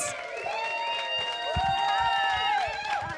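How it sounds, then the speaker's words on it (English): An audience gives applause and cheering for a speaker, with a dense, steady wash of clapping and scattered whoops and shouts in a hall. "Give a rousing round of applause to Nancy Matthews."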